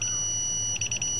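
Keypad safety alarm system sounding on an emulator, a steady high electronic tone with a quick run of repeated beeps near the end, clear and alone.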